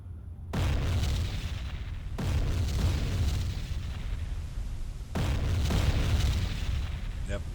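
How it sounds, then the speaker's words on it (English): Deep, rumbling depth charge blasts from the Silent Hunter 3 submarine game land as three distant booming onsets, each followed by a long low-frequency roar that sustains steadily between hits. "You can't see the explosion."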